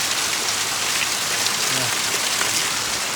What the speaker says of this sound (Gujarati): અમારે તો ત્યાં અહીંયા એટલો રંગ સકરી વરસાદ પડે છે